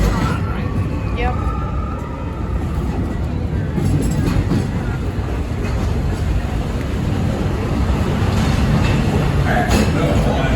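A Walt Disney World railroad train rolls along with a continuous, rumbling clatter, heard from on board, while a voice narrates over the noise.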